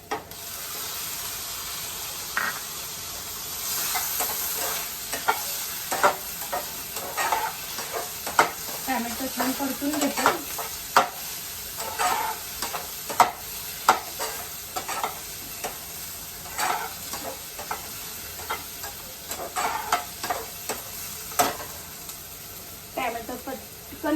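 Tomatoes sautéing with vermicelli in a pan for upma, a low sizzle beneath repeated scraping stir strokes that come in irregular bursts, close and clear.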